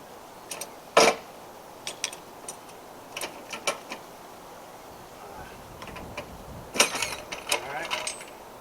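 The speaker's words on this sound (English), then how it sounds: "see how the trolley jack is tilting? Lower that." Trolley jack being lowered beside a 2007 Saturn Vue during a front brake pad change, giving scattered mechanical clicks and ratcheting ticks at close range, some louder clunks among them.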